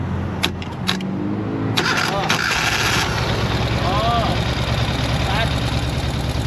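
A sidecar motorcycle engine with a weak battery cranks over a few times, catches and settles into a steady running idle, with clicks and rattles early on and someone talking over it.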